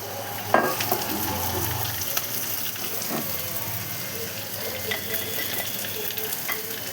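Onions and green chillies sautéing in a pan give a steady broadband sizzle with occasional clinks and stirring scrapes, the sound of water being added blending into the continuous frying noise.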